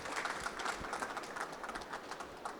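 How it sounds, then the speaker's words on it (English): A seated audience at a business talk about building a jewellery empire gives Rajesh bhai a round of applause, a faint, distant, steady patter of many hands clapping. "So one round of applause for Rajesh bhai."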